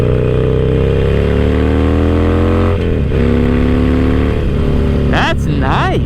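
Harley-Davidson Roadster 1200 Sportster with a Vance and Hines full exhaust, a loud, close V-twin idling and rumbling with a few sharp throttle blips and revs near the end.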